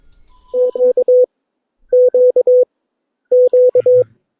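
Three bursts of the same dash-dash-dot-dash Morse code pattern for the letter Q, clean steady beeping tones separated by short pauses.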